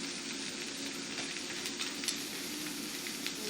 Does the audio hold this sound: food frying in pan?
yes